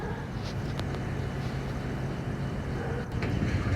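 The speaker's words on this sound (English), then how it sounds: "So, wait for the train to come." A train approaches in the video game Hello Neighbor, a steady low rumble and rolling roar that holds throughout and swells slightly near the end, with no talk.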